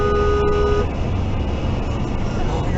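Car horn honked at a driver using his phone on a Maryland road, a loud steady toot lasting nearly a second over constant traffic rumble, then cut off as road noise continues.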